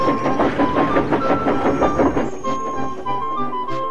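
A shunting train backing onto a brake van rumbles slowly nearby, with rhythmic clanking and a faint whistle-like tone, easing to a quieter hum and scattered metallic knocks.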